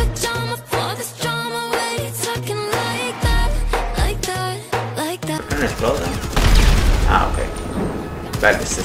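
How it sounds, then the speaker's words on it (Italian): Rapid bursts of gunfire and heavy booms in the video game GTA Online crowd together, loud and chaotic, followed by rumbling explosions and debris. "Esplosioni"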